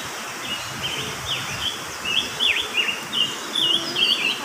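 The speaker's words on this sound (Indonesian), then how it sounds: "itu kutilang kecil-kecil nggak kelihatan" Sooty-headed bulbuls chirp in the open, small birds calling in a series of quick, bright, descending notes over a soft outdoor hiss, fairly close and repeating through the whole stretch.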